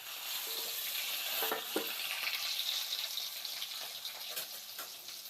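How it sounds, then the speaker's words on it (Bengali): Potatoes and squash frying in hot oil with nigella seeds for a fish curry make a steady, soft sizzle throughout, with a few light clinks of stirring. "আমি আলু আর কোয়াশটা দিয়ে দেব তেলের মধ্যে"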